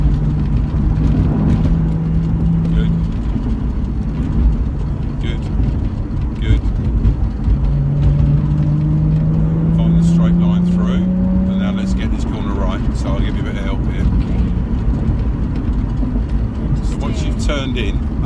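A car engine pulls hard on a race circuit during a driving lesson, its rising drone swelling through mid-clip beneath steady instructor talk.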